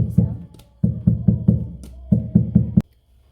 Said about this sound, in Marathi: आता हे टीन आपण एकसारखं टॅप करून